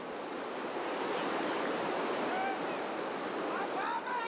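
Whitewater rapids on the Rogue River in Oregon below Grave Creek Falls, a steady loud roar of churning, splashing water that fills the whole stretch, with a faint voice or two near the end.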